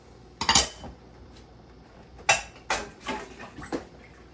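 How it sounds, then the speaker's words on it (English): Peppers and celery being dumped into a cooking pot for chicken bog, a few bright clattering bursts of pieces hitting the metal pot, separated by quiet gaps. "we're going to dump all our vegetables in. It's all our peppers, celery"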